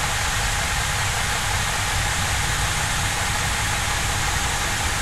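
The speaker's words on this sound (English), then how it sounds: "Starting engine 2." A steady, loud, broadband roar of an Airbus A330 engine starting in the X-Plane 11 flight simulator, holding an even drone throughout with no voices.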